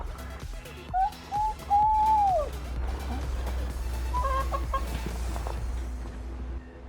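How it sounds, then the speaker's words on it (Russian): Chickens in a coop behind a house cluck and make a few drawn-out calls nearby over a constant low hum, with soft clucking continuing in the background. "Совершенно неожиданно в этом домике оказались еще и курочки."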